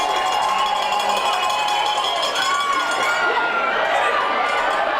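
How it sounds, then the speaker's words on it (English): Big football crowd cheering and roaring at McLeod Athletic Park, a dense, steady wall of noise at close range with high-pitched shouts and whistles running the whole way through. "Big crowd out here at McLeod Athletic Park. They like to see that. On their feet to salute the defensive effort."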